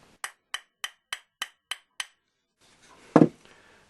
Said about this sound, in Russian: Используя небольшой молоток, несильными ударами забьем эту втулку в корпус редуктора.